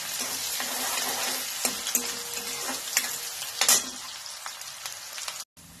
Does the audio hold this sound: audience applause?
no